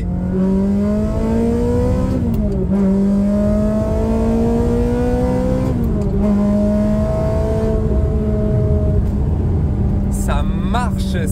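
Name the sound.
Ferrari 360 Modena engine revving with loud exhaust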